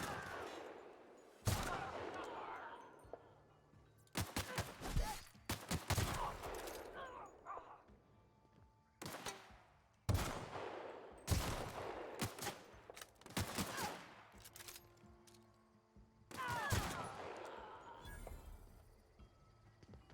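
Repeated bursts of gunfire in The Outer Worlds, loud broadband volleys arriving in clusters across the scene, with sustained rattling fire between sharp onsets and background game noise beneath.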